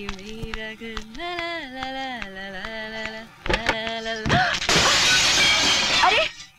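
A glass house smashes in a loud, bright crash that spreads into a long scatter of breaking shards, following sung music in a Hindi comedy scene.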